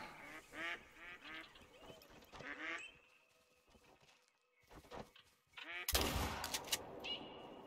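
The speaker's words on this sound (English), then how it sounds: "Hello, ducks." Ducks quack in a hunting video game set in New England, several short nasal calls early on under game ambience, then a loud burst of noise near the end.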